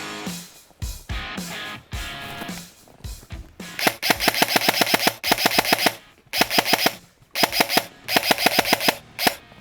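A Classic Army Nemesis X9 airsoft electric gun fires at close range, first a few scattered single shots, then rapid clattering bursts separated by short pauses.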